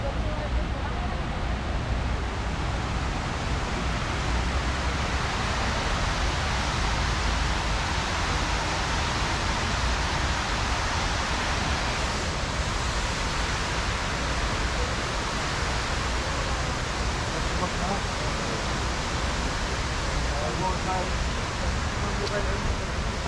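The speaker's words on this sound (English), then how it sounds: "hearing the sound of the water" Steady, loud rush of flowing water, a continuous broadband roar like a waterfall or strong current that stays even and close for the whole stretch, with a voice faintly present beneath it.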